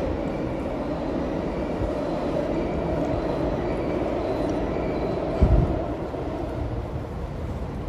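A tram passing near Hamarikyu Garden, a continuous low rumble of wheels and motor that stays fairly even, with a short heavier clunk partway through and no voices.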